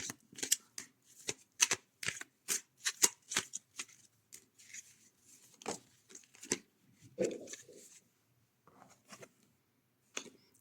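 Tarot cards are shuffled by hand for a reading, a run of crisp, close riffling snaps in quick rhythm, thinning into scattered softer slides and taps in a quiet room.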